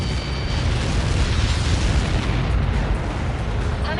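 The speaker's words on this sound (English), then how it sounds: "How many got caught in that explosion?" A video game impact explosion roars as a dense, loud, sustained blast that fills the whole clip with rumbling noise and no pause.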